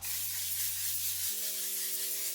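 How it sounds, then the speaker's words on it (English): A short airy hiss of makeup setting spray misting sounds close by over a faint background hum, with no one speaking. "And then I'll finish off with the One Size Setting Spray."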